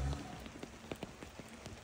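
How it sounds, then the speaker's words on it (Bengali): Light rain falling in a village courtyard, a brief steady patter of drops on surfaces, close and alone. "বৃষ্টিটা আসার আর সময় পাইল না।"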